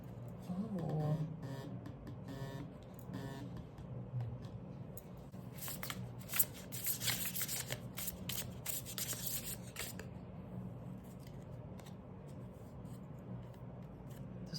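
Oracle cards being handled and shuffled, soft close rubbing and riffling with a denser flurry of papery flicks partway through, then quieter sliding, all fairly faint.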